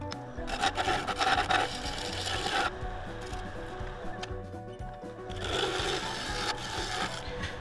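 A lathe turning tool cuts the exterior of a Mudgee River sheoak bowl, giving a steady rasping, scraping drone that swells and eases over several passes, close and fairly loud with no talk.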